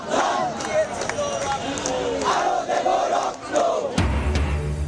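Large protest crowd in Bangladesh chanting slogans demanding punishment over killings of demonstrators, a dense roar of many voices rising and falling continuously, with a louder burst of shouting near the end.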